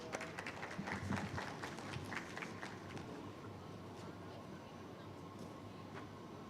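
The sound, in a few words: applause at a forum event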